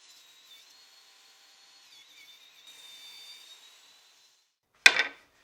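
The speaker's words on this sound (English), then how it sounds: "I'll remove the support and make a new cut on the opposite side" A saw working on pallet wood gives a thin, steady motor whine that fades out, followed by one abrupt, loud cutting burst that dies away quickly.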